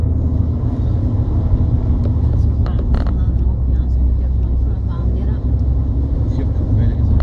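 An Alfa Romeo car engine held in second gear at 3500 rpm, a loud continuous low drone mixed with wind buffeting, recorded close while people talk.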